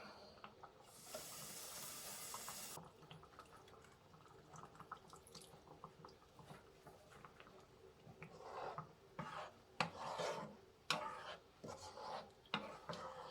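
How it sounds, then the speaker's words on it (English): Water pours with a bright hissing splash into canned tomato sauce for spicy meatballs, lasting about two seconds. Quieter clinks and soft stirring sounds follow in the pot. "So I'm gonna add a little bit of water."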